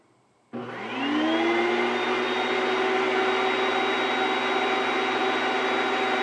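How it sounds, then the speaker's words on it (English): A shop vac draws engine oil out of a motor through a hose: its motor switches on abruptly and spins up to a loud, steady whine and roar that holds without a break. "we took a hose, hooked it up to a shop vac, and gonna suck the oil right out of the motor"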